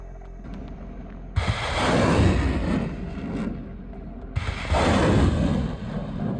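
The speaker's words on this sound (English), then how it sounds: "Then the ammunition inside the equipment exploded" Ammunition cooks off inside destroyed military equipment in two heavy, roaring bursts a few seconds apart, each sustained and rumbling before partly fading.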